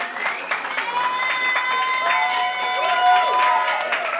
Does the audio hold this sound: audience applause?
yes